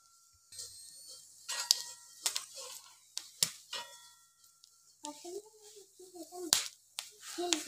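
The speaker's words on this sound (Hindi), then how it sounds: "दाने में पटाखा हो रहा है" Grains popping and crackling, sharp irregular pops and snaps, some loud and near, scattered over a quiet background with a faint voice partway through.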